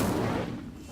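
Incendio fire spell cast in the video game Hogwarts Legacy, a single brief, dense whooshing burst that fades out within a second.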